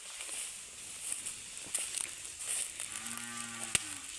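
A cow moos in a low, drawn-out call near the end, with faint rustling and footsteps before it, while cattle are herded in a quiet open field.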